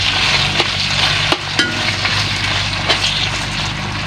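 Hotdogs frying with onions and banana ketchup are stirred in a pan, a steady sizzle running throughout with a few sharp scrapes and clinks of the utensil against the pan. No one speaks.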